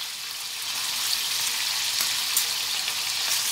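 Skin-on pork leg sizzles hard in hot oil, a loud, steady hiss with dense crackling and spattering that carries on without pause.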